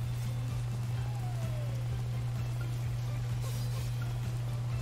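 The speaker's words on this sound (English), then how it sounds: "Shelter from heavy rain." Heavy rain in the video game Astro's Playroom falls as a steady, even hiss of rainfall over a constant low hum, continuous for the whole stretch with no talking.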